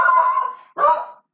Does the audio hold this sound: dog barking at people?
yes